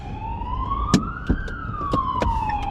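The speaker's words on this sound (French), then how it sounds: "moi j'ai encore les ambulances" Ambulance siren wailing on a street in Belgium, a steady rising then falling tone that sweeps slowly, fairly close, over traffic rumble with a few sharp knocks.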